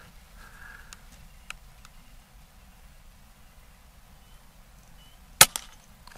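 A single sharp crack from a .22 regulated Umarex Notos micro-carbine PCP air rifle firing a pellet, standing out near the end against a quiet, low background hiss.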